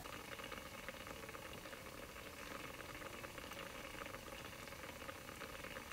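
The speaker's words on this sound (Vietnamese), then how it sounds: "nước sôi mạnh rồi đấy." Water at a vigorous rolling boil, a steady dense bubbling and hiss that runs continuously without pause, fairly faint and with no voices over it.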